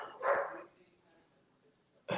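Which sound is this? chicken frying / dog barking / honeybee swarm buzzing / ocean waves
dog barking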